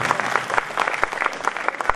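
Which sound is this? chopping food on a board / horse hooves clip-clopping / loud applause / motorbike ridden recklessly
loud applause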